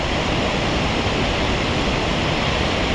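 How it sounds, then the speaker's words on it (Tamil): Shivanasamudra Barachukki waterfalls in Karnataka roar in a steady, dense rush of falling water, loud and unbroken throughout. "செம்மையாக கொட்டுது தண்ணி"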